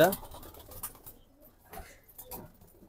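Military breed pigeons coo in soft, repeated low calls close by, with short fluttery rustles and a few brief chirps woven through the murmuring flock.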